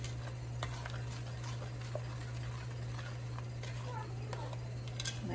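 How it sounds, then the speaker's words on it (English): A spoon scrapes and mashes powdery clumps of no-bake cookie mixture against a pan, giving soft, irregular scraping clicks over a steady low electrical hum. "I try to mash that up against the pan and try to stir it in"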